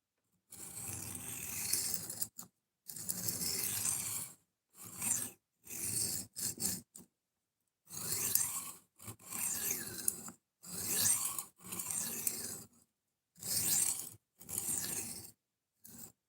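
A knife blade is drawn across a coarse 120-grit sharpening stone in about ten separate bursts of gritty rasping strokes, each lasting one to two seconds, with short silent gaps between them.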